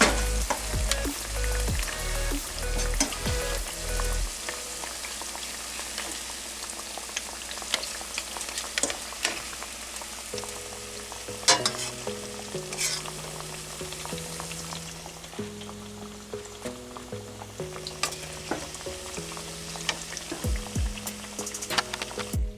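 Sliced plantain fries in hot oil, a loud, dense, continuous sizzle and bubbling close by, with occasional clinks and scraping from turning the pieces.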